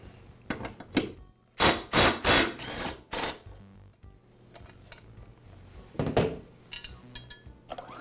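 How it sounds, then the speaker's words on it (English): Metal clanks and ratcheting from a wrench working the single blade bolt on a Husqvarna lawn mower clamped to a workbench, coming in short bursts of sharp strikes and scraping with quiet gaps between them. "The blade is secured with one bolt, and I'll go ahead and remove it."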